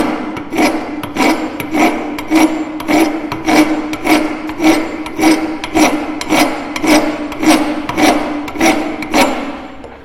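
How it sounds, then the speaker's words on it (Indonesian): A hand file rasps back and forth across a metal workpiece on a workbench in steady one-direction strokes, roughly two per second, close and loud with no voices. "Kita meratakan dengan kikir searah"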